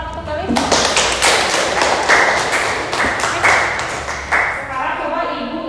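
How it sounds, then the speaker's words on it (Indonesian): A classroom of students claps for a classmate after a lesson summary, with a short burst of brisk, close hand claps and voices talking around it. "Kita berikan tepuk tangan untuk Gali"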